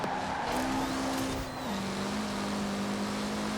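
A racing car engine in Forza Horizon 4 roars steadily and close, its pitch stepping up then dropping as gears change, with a faint squealing whine above the continuous drone.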